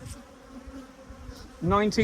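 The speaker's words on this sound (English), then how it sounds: "the bees are really excited" Honey bees buzz steadily and close around the supers of a beehive, a continuous excited drone, with a brief louder burst of buzzing near the end.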